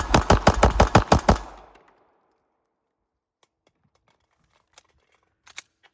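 A gun fires rapidly in a tight burst of about eight sharp shots lasting over a second, then falls to near silence broken by a few faint clicks and ticks.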